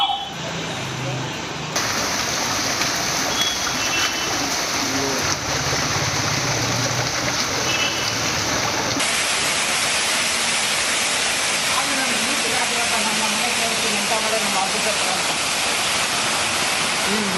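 Floodwater from heavy rain pours through houses and shops in Hosamane, Annanagar and Bapuji Nagar in Shivamogga, a loud, unbroken rushing roar like a torrent.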